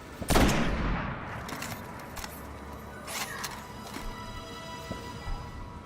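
Gunfire in the Destiny video game aimed at an enemy captain: a loud burst of shots opens the scene, followed by scattered sharper reports and crackling combat noise at a moderate distance.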